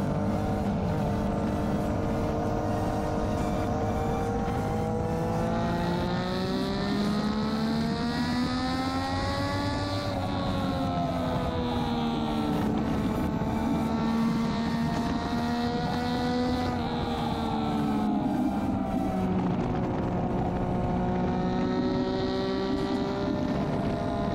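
A motorcycle engine drones steadily throughout, its pitch rising and falling as it accelerates and eases off, with wind rushing past the microphone.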